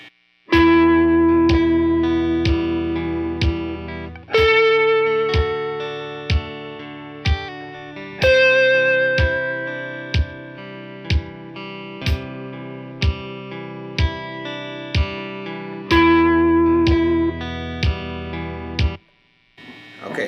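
Electric guitar notes ring out over a repeating chord progression, single sustained tones struck roughly in time with each chord change, with rhythmic plucking throughout.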